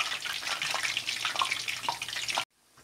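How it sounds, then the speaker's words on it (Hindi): Onion pakoras frying in oil over a medium-low flame, a dense steady sizzle and crackle with small pops, cutting off abruptly at the end. "अब इसको मीडियम टू लो पे हम फ्राई कर दें।"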